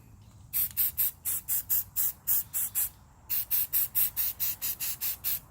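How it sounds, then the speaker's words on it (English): Short repeated bursts of spray paint coating the recessed carved areas of a wooden sign black, about eighteen quick hisses in two runs separated by a brief pause, close and fairly loud. "I just lightly, carefully spray all the inside stuff, all those inside parts black"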